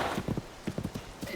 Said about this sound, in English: as I'm running with the horse